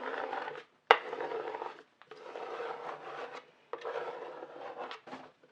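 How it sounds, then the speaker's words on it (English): Scraper dragged hard across material on a wooden surface in a Cricut Joy craft project, making three long rasping strokes close up, each separated by a brief pause, with a sharp knock before the first stroke. "I'll go through and really scrape hard with it and get it really down."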